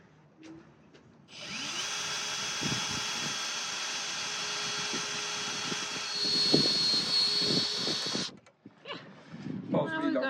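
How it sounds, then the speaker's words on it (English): A power tool driving screws to fit rails onto a sailboat's arch for an enclosure, running as one loud, continuous whine for about seven seconds, followed by faint knocks and handling noises. "screwing up the new tracks or rails for the arch to hold the sides of the"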